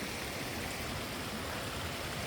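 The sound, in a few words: creek water flowing in Daintree rainforest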